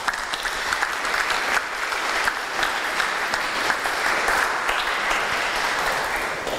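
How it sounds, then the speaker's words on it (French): Dense, steady applause from an audience welcoming a volunteer at a mentalism and magic show, continuous clapping over the whole stretch with no talk above it. "on peut l'applaudir, on l'encourage."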